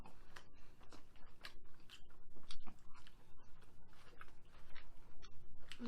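Someone chews McDonald's spicy chicken nuggets close up, with steady crunchy bites and wet mouth sounds repeating rhythmically over several seconds and no talking.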